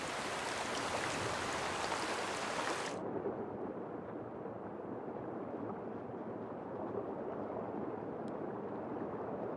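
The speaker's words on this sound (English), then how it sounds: "Mountain streams benefit." Mountain stream in the Drakensberg rushing steadily, a dense broadband wash of flowing water; a brighter, louder splash layer drops away after a few seconds, leaving a softer continuous murmur.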